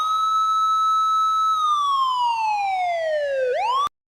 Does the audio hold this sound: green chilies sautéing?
no